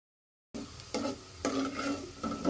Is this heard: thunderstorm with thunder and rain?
no